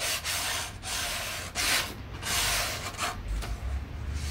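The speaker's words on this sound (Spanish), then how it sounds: "Se prepara la matriz lijando un poco el borde." Close, steady rubbing of sandpaper along the edge of a wooden woodcut printing block, a continuous rasping scrape with a few short pauses and changes of stroke.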